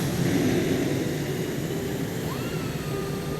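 Propeller airplane engine droning steadily at full power during takeoff, a continuous close roar with a rising whine near the end, no talking.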